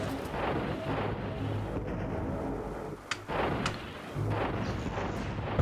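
Booming artillery shots in the real-time strategy game Zero-K, a sustained barrage of loud overlapping blasts and rumbling impacts with a few sharp cracks near the middle, dense and continuous throughout.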